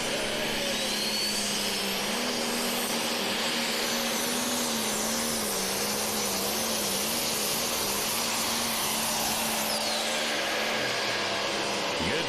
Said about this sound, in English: hook to the sled, getting the RPMs brought up